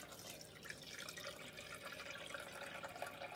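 White vinegar is poured into the water reservoir of a Braun MultiServe KF9150 coffee machine for descaling, a quiet steady trickle with faint drips and no voices.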